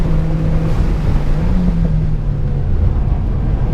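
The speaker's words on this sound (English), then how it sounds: "Braking downshift in a straight line." A Honda Evo X brakes and downshifts in a straight line on a racetrack. The engine note drones loud and steady, its pitch dipping and rising briefly as the gear changes, under heavy wind rush.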